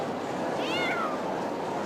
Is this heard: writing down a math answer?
no